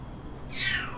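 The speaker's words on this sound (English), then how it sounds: "Ooh, that's my cat." A pet cat gives a single close meow in the second half, rising clearly above a quiet indoor room hum.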